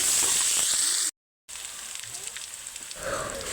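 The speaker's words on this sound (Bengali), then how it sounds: "এবার পেঁয়াজ দিয়ে লাল লাল করে ভেজে নিচ্ছে" Onions frying in oil in a pan for a hilsa fish curry give a steady, bright sizzle and hiss, close and loud, broken by a short silent gap partway through.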